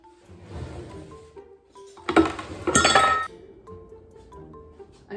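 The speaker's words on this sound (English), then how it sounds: "I'm gonna grab that spoon real quick." A spoon is grabbed from among glass dishes, giving a quick cluster of bright clinks and rattles at close range after a quieter shuffle, then a couple of faint taps.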